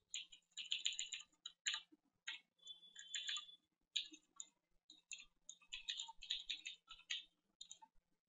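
Code being typed on a computer keyboard, quick bursts of crisp key clicks in irregular runs with brief pauses, close and clear with no talk.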